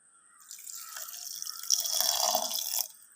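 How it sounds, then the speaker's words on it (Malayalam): Soaking water is poured from a vessel into soaked rice and coconut in a grinder jar in a village kitchen, a steady close splashing trickle that swells and then stops. "ഞാൻ കുതിർക്കാനിട്ട് ആ വെള്ളം തന്നെയാണ് അരയ്ക്കാനും വേണ്ടി ഒഴിച്ചു കൊടുക്കുന്നത്"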